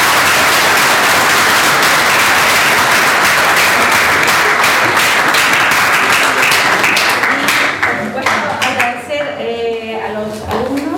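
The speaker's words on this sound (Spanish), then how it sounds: "Un aplauso para ella." An audience applauds a presenter at a university talk, loud dense clapping that fills most of the clip before thinning into scattered claps and fading voices near the end.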